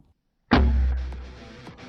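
An M79 grenade launcher fires once with a sudden deep thump and a hollow bloop, followed by a short fading tail and faint outdoor background.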